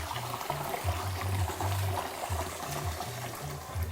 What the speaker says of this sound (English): when you wash your rice, you know you must pour off the water